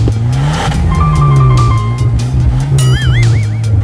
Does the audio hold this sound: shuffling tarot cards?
no